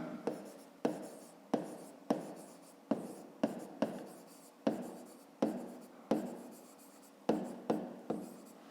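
A pen scratches across paper while working a fifth-grade maths exercise, with around a dozen quick, separate strokes at an irregular pace, near and soft.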